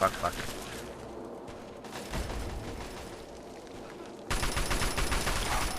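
Enemy gunfire in Fallout 3 rattles in rapid bursts of shots, loud and dense, with brief lulls between volleys and a heavier barrage toward the end.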